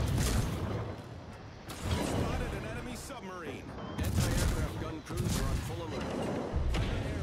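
Heavy naval guns in World of Warships fire HE shells in repeated booming salvos, each blast rolling into rumbling echoes, with a voice talking over the battle.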